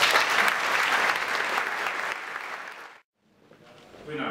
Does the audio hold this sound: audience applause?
yes